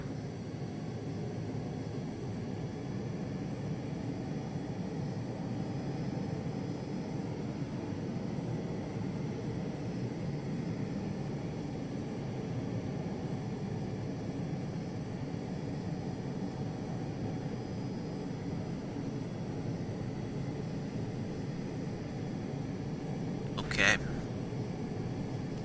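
A Phenom 100 jet taxiing in a flight simulator makes a steady, droning engine hum with a broadband hiss, even in level throughout, with a brief sharp click near the end and a voice talking over it.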